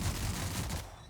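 A single muffled shotgun blast in the video game The Outer Worlds, a short broad burst that fades quickly, fairly faint.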